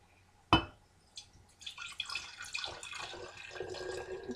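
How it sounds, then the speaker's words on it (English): Homemade kombucha is poured from one jar into another, a sharp glass clink followed by a soft, growing stream of liquid splashing and trickling, quiet and close. "I'm just going to pour the kombucha in the next jar, and then I'll throw the fruit in."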